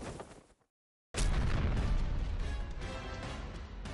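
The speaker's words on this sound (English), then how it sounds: "an explosion erupts nearby." A loud, close explosion from the Granblue Fantasy video game bursts in after a brief silence, then a sustained roaring rumble of debris and blast noise fills the rest of the moment.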